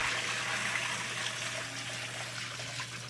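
Rainwater poured by bucket into a clothes washing machine, a continuous close splashing and trickling rush of water that holds steady throughout.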